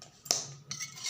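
A spoon stirs salt into beaten eggs in a bowl, making two quick scraping clinks close up with no talking.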